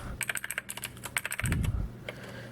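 Quick, uneven clatter of keystrokes on a Velocifire VM01 mechanical keyboard, close and crisp, with a short heavier burst of presses in the middle and no talking.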